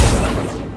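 An Accio summoning spell cast in Hogwarts Legacy gives a short, heavy booming burst that starts at full strength and fades over under a second, close and loud.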